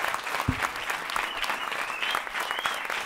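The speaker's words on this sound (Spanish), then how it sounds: "aplauso muy fuerte para Alberto Graupera." An audience at a stand-up comedy show applauds loudly and continuously, a dense wash of clapping with scattered whoops and a few voices mixed in.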